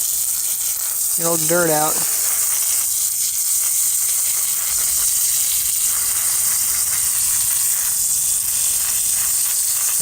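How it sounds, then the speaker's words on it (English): Water from a garden hose sprays steadily over a Frigidaire window air conditioner filter laid on the ground outdoors, a continuous broadband hiss running throughout, with a brief spoken phrase near the start. "Just going to take it and hose it off."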